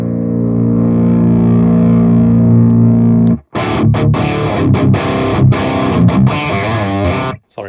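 A metal electric guitar runs through a high-gain Overloud TH3 amp simulation: a long sustained distorted chord rings out, then cuts off into a burst of tight, chugging palm-muted riffing with sharp stops, loud and dense throughout.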